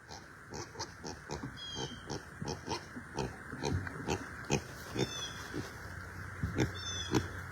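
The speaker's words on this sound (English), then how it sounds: "Percy Pig! Percy Pig" Percy the pig oinks and grunts on a farm in South Aiken, South Carolina, giving a run of short, repeated snorts at close range over steady outdoor background noise.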